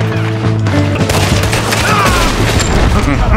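Gunfire in the Red Dead Redemption 2 video game: a loud, dense volley of shots and booms throughout, mixed with game music and effects.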